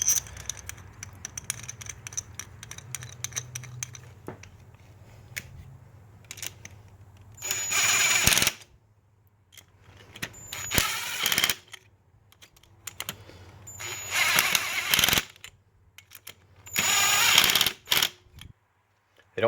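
Ratchet tightening spark plugs on a VW MK7 GTI, in several separate bursts of rapid clicking with quiet gaps between, close and fairly loud, ending as the plug reaches torque.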